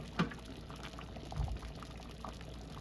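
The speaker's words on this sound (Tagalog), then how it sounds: "Pakuluan na sa nato mga ilang minuto" Korean red bean porridge (patjuk) simmering in a pot, a soft low bubbling with a couple of distinct pops, close and fairly quiet.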